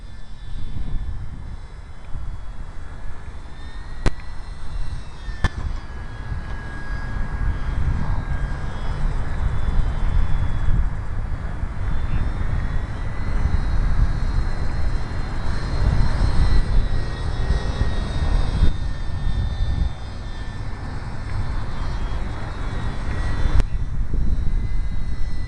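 An ultra micro RC airplane flies in high winds, its small motor giving a steady whining drone with shifting pitch over low wind rumble and buffeting. No one speaks.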